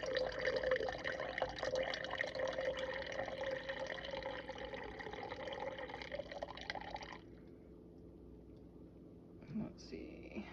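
Water poured into a bowl of fresh-milled wheat bread dough, a close, steady trickle lasting about seven seconds before stopping, followed by quiet with a couple of soft knocks.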